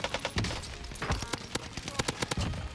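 Rapid STG44 assault rifle fire in the video game Warzone Pacific, a burst of sharp repeated shots in quick rhythm, fairly loud and close, with a few scattered louder cracks standing out across the stretch.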